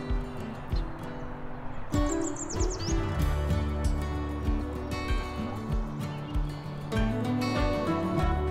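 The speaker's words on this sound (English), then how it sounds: "I'm hearing so many calls and trying to film all these warblers" Warbler calls and chirps ring through Wisconsin woods during spring migration, several birds calling overlapping and fairly close above a busy, continuous background.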